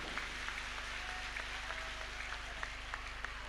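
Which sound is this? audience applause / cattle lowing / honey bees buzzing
audience applause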